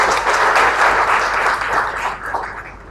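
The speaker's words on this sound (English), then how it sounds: "let's give him a round of applause." Audience at a memorial lecture applauding, a steady dense round of clapping from a seated crowd that carries on throughout and tapers slightly toward the end.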